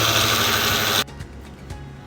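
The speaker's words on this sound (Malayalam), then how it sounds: "നമുക്ക് മിക്സിയിലിട്ട് പൊടിച്ചെടുക്കാം." A kitchen mixer grinder grinds roasted chutney powder ingredients in a loud, dense whir for about a second, then cuts off abruptly, leaving quieter rattles and small knocks.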